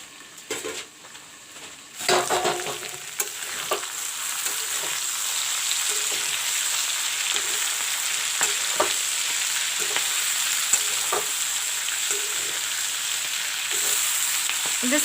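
Mixed vegetables including broccoli, carrot and capsicum frying in a pan, a steady hiss of sizzling with a clatter of stirring near the start and scattered scrapes throughout, close and continuous.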